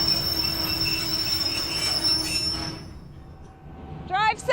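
Metal train wheels squeal against the rails in a sustained high whine, close and fairly loud over rumbling carriage noise, fading out near the end before a brief burst of sharper squeals.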